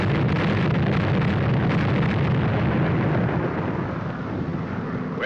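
A bomb blast at a weapons test site in a 1942 Sherlock Holmes film, a loud sustained roaring rumble that fills the whole clip without letting up, with no voices over it.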